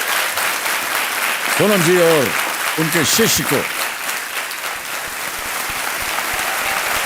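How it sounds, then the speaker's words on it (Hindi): Studio audience applause on a Hindi quiz show set fills the whole stretch, steady and close, while someone speaks briefly over it in the middle. "तालियां बज जाएं।"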